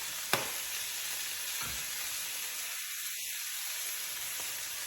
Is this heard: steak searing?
yes